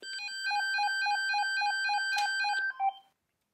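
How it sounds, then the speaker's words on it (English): A quick, evenly paced run of bright electronic beeps from a DNT DRS2000 PMR446 two-way base radio chime plays for about three seconds, ending with a couple of slightly different tones. "let's check the new chime that we just selected."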